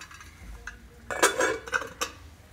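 A lid clatters onto a metal pot of Alleppey-style coconut fish curry, a few sharp clanks and scrapes over a quiet kitchen background.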